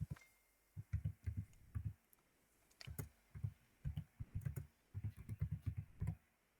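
Fingers typing on a computer keyboard in short irregular bursts of close, crisp key clicks separated by brief pauses, quiet room, no talking.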